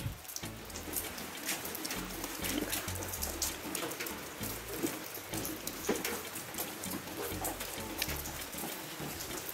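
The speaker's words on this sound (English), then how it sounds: "And it's still drizzling." Light rain patters steadily on surfaces, a soft continuous drizzle with scattered drops, no voices.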